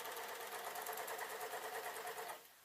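A sewing machine runs a seam on suit trousers, a fast, even mechanical whir heard close and alone for about two seconds before it stops.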